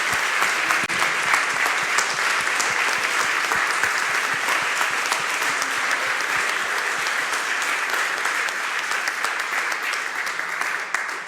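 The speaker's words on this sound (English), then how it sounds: "now it's the final round of applause for Florent" Sustained audience applause for Florent of Michelin at an event, a dense, steady wash of many hands clapping at even strength for over ten seconds.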